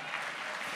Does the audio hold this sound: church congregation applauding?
yes